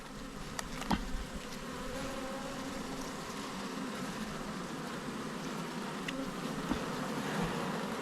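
Honey bees drone in a steady, close hum while a beehive is opened for inspection after a tough season, with a few soft knocks of frames and boxes and no talking.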